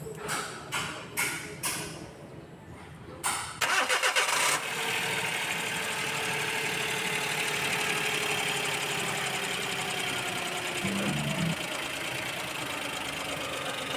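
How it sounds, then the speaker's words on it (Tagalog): A DA64 minivan's turbo engine with a turbo problem cranks in a few rough bursts, then catches and settles into a steady, close idle that runs to the end. "So ngayon, paandarin na natin yung makina kung na-fix na ba natin yung problema."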